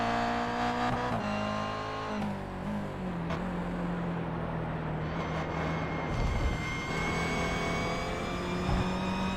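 Toyota GR86 race cars in a sim racing game, engines droning steadily with rising and falling revs throughout, a continuous loud layered engine tone with no talking.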